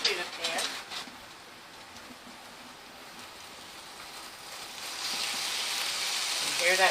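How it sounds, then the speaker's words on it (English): Ground beef and tomatoes sizzle in a pan with a soft, steady hiss that swells louder toward the end, with brief talk at the start. "Hear that sizzle?"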